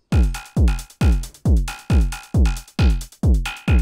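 Modular synth percussion sent through a low-pass filter: eight punchy, booming hits in a steady techno pulse, each with a falling low thump and a softened upper click, close and loud with nothing else playing.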